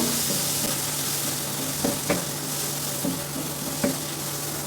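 Ground turmeric, cumin, coriander and chilli being stirred into amudi fish frying in a pan: a constant close sizzle broken by a few sharp spatula taps and scrapes.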